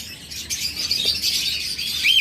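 Small caged birds at a bird farm, budgerigars, lovebirds, doves and cockatiels, keep up a continuous busy chorus of high chirps and tweets at moderate distance, with no talk.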